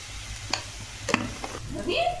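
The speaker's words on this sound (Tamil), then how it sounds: "இஞ்சி பூண்டு பேஸ்ட்டு கொஞ்சம் போட்டு வதக்கிக்கணும்" Ginger garlic paste with spices sautéing in a pan, a few scattered scrapes and knocks of stirring over a low sizzle, close by, with a brief voice-like sound near the end.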